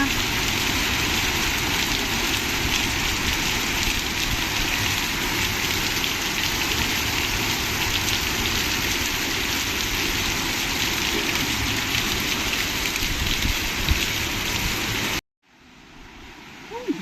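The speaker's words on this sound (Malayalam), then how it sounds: "ഓർക്കാപ്പുറത്തൊരു മഴ എൻ്റെ അമ്മേ എന്തൊരു മഴയായിരുന്ന" Heavy, sudden rain pours down in a dense, steady hiss of drops striking surfaces, loud and close, holding constant for a long stretch before abruptly cutting off near the end; no clear voices over it.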